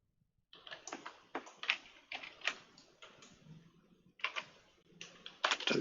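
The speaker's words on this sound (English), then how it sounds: "I'm going to type the equation instead" An equation is typed on a computer keyboard: quiet, close key taps come in quick irregular runs with a brief pause partway through, and no talk.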